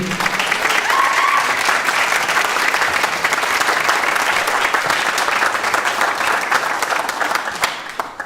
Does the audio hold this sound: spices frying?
no